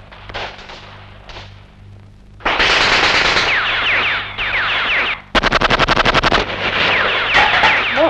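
Gunfire in a drama set in 1976: loud bursts of rapid automatic shots, with the hardest, most evenly spaced volley near the end, over a constant dense roar.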